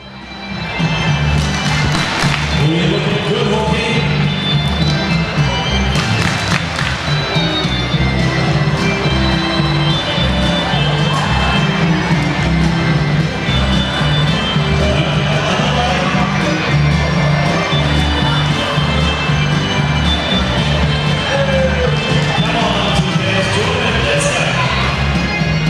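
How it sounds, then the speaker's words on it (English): Dense, loud basketball arena crowd cheering and clapping for the Hawks, whipped up by the team mascot, a continuous roar with rhythmic stamping and claps running throughout. "Hawkey's getting the crowd all wind up."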